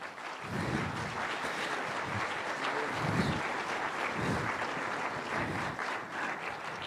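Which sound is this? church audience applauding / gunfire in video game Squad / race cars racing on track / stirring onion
church audience applauding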